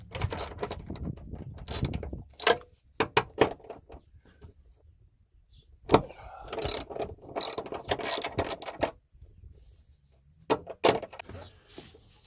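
Seat bolts being removed from a Hellcat car, heard as bursts of ratchet-like clicking and metallic mechanism noise, loud and close, separated by short pauses with no talking.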